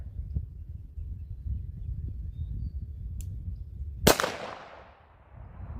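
A single sharp pistol shot fired in double action at an outdoor range rings out with a quick decaying tail, set against a steady low rumble of wind.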